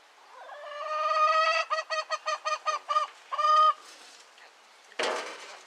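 A broody hen calls loudly up close, a drawn-out note breaking into a rapid string of clucks, then a short harsh squawk at the end.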